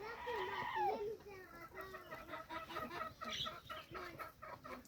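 Herati chickens cluck and squawk repeatedly up close, a busy rhythmic clucking that continues throughout, with a rooster-like crow at the start.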